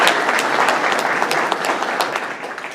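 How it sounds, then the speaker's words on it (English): An audience claps loudly and continuously in a dense burst of applause that stays strong throughout and tapers only slightly at the end. "Big round of applause."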